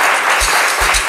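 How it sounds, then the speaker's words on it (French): Studio audience applause at a television talk show, a short, dense burst of clapping that fills the moment loudly with a few low thumps. "Applaudissements."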